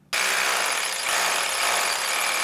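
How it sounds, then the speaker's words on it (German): A 180 mm core drill bites into a house wall, starting abruptly and then grinding on as one loud, harsh, unbroken roar, heard close up. "Erst dann wird der 180 mm große Kernbohrer angesetzt."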